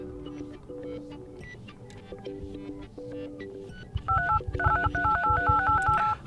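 Dialing a call on an OPPO A57s phone produces a run of DTMF keypad tones, steady paired beeps at first, then a faster cluster of higher tone pairs over a louder rumbling background, with no talking.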